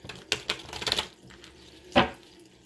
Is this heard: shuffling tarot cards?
yes